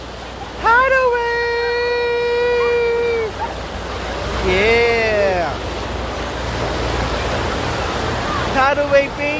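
Churning water of the Tidal Wave wave pool at Mountain Creek water park, a steady surging wash running underneath loud excited shouting and talking from people nearby across the whole stretch.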